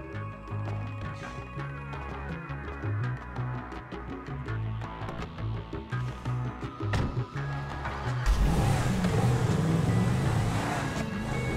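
A car driving in the video game Grand Theft Auto 5, with a steady engine drone under a dense mix of game sounds that swells louder and rougher in the last few seconds.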